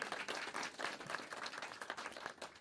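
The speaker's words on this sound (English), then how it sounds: "So give them another round of applause" Graduates at a December graduation ceremony receive a round of applause, a dense patter of many hands clapping at moderate distance, steady and brief, without talk.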